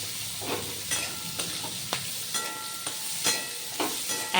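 Onions frying in a pan of oil tempered with black cumin seeds and green chilli, a steady soft sizzle broken by several scraping stirs at a regular pace, close up, with no voices.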